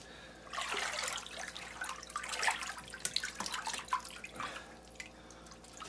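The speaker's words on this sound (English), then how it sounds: "All right, so pour your bleach in." Bleach poured into plastic growing trays or containers: a steady liquid splashing and trickling that builds and wavers, with brief drips and glugs, fairly quiet and close, no talking.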